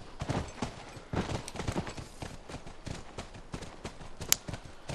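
Horse hooves clopping in The Last of Us game, a busy run of irregular thuds and clicks mixed with other game noise, fairly close and steady, with one sharp bright crack near the end.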